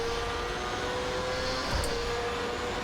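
A race car engine in an rFactor 2 mod drones steadily at high revs, a constant sustained whine with a brief louder swell near the middle, heard alone without talk.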